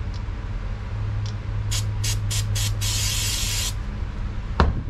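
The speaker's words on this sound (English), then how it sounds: "instead of me spraying directly to the part, just gonna spray on the towel" Several short hissing bursts of trim cleaner sprayed from an aerosol can onto a towel during Corvette C6 dashboard trim prep, close and fairly loud over a low steady background hum, ending with a brief knock.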